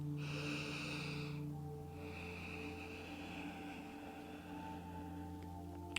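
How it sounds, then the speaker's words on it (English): Deep, slow breathing during a gentle yoga forward fold, with a steady airy inhale and exhale running continuously and quietly over a faint background hum, no talking. "Take 2 more deep breaths."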